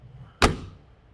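Heavy entry door of a 2024 Airstream Flying Cloud 30FBQ travel trailer swinging shut: a single solid, close thud with a brief rumbling decay, alone over a quiet room.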